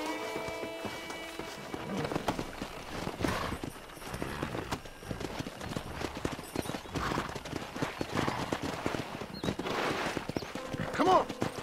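Horse hooves clip-clop steadily with a whinny or two in the video game Red Dead Redemption, mixed with game music and ambient noise, and people talking over it.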